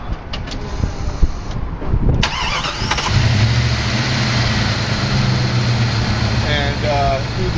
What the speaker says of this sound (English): turn the key to start the vehicle